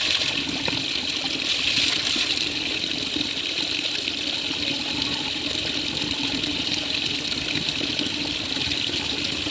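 A strong, steady rush of cold water pours from a garden hose fitted with a leaf screen, a continuous broadband hiss with no talk over it.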